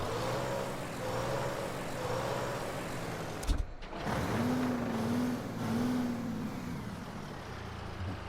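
A car engine idles steadily in Mafia Definitive Edition, a low hum with faint tonal whines rising and falling, briefly broken by a short clunk midway, moderately quiet with no talking.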